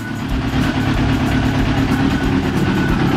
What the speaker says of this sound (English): That's no choke at all, that's just purely on its tick over.